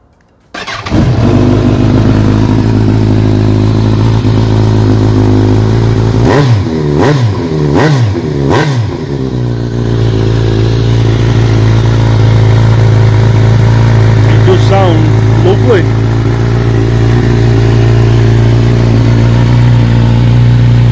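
A customised Kawasaki Z1000 motorcycle cranks over and catches, then settles into a loud, steady idle close by, broken by a cluster of sharp throttle blips in the middle and a couple of later revs.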